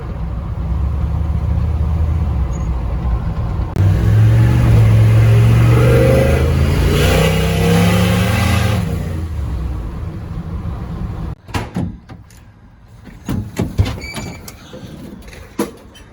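A turbocharged truck accelerates hard off a light throttle input, its engine roaring loud and steady for several seconds with rising pitch before cutting off, followed by scattered knocks and mechanical clatter.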